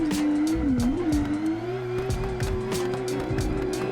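Stage 2 RB26 engine with a stock turbo in a racing video game, a loud droning engine tone that dips then holds steady as it strains to climb, with faint tire squeal and clicks on top.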